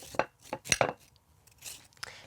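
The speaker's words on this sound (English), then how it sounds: "we'll just scrape them out with a spoon" A spoon scrapes the watery seeds out of a halved cucumber, making a few short, close scraping and tapping strokes in quick succession, followed by softer, fainter scrapes.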